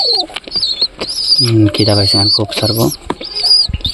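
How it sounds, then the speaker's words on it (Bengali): A pigeon chick calls with repeated thin, high-pitched squeaky cheeps from close by, continuing throughout while someone talks over it. "কিন্তু এই বাচ্চাটা দেখো ডাকতেছে কীভাবে"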